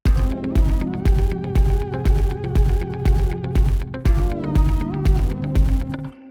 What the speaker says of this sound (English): we can hear that we've got a kick drum on every quarter note.